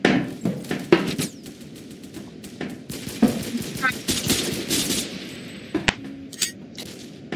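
Bursts of gunfire from Roblox Phantom Forces, a run of sharp shots and rapid automatic volleys with intermittent louder bangs, close and fairly loud with brief gaps between bursts.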